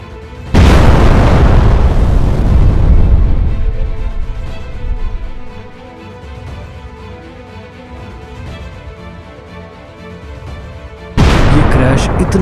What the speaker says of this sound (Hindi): ये प्लेन पर्म इंटरनेशनल एयरपोर्ट के करीब ही एक इलाके में क्रैश होकर तेज धमाके के साथ राख के ढेर में बदल जाता है।